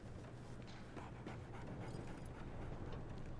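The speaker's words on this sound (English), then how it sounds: "I hear a doggy." A dog in the Sherlock Holmes video game panting softly, quick breathy puffs with a whimpering edge, faint and low beneath a steady background hum.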